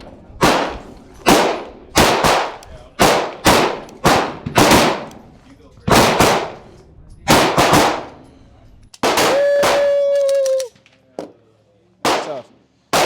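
An HK VP9SK pistol fires about a dozen loud, sharp shots at targets in uneven bursts. A steady electronic beep and some ringing tones break in partway through.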